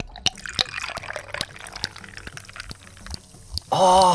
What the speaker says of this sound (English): I'm pouring myself another drink